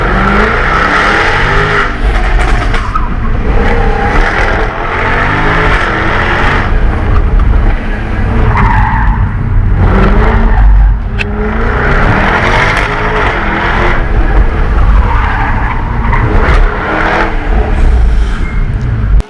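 Race car being driven and tested outside a Gran Turismo Sport demonstration event, its engine revving loudly up and down through repeated gear changes, with surging acceleration and rasping exhaust close by.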